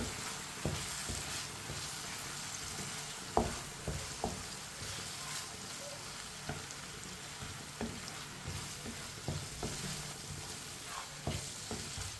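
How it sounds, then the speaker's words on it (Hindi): Steady sizzling of boiled lentils frying in a pan, with scattered scraping clicks of a spoon stirring throughout. "मिक्स कर लेंगे दाल डाल के।"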